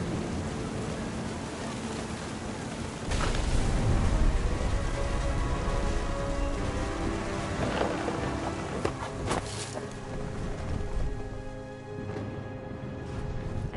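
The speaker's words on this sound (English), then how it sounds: "The thunder sounded much too close and full of angry power." Heavy rain pours steadily in the video game What Remains of Edith Finch, with deep rumbles of thunder rolling in close and loud over the constant hiss of the downpour.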